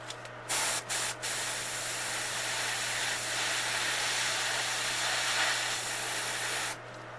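Close, steady airbrush hiss spraying paint onto a bluegill fishing lure, with a few brief stuttering bursts at the start before one long continuous spray that stops near the end.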